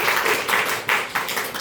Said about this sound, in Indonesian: beri tepuk tangan untuk Fabian.